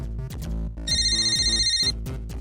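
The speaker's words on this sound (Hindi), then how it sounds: "मेरे लॉयर का फोन है" A phone ringtone plays loudly over a steady electronic melody, with a bright sustained high-pitched tone sounding for about a second in the middle of the repeating tune.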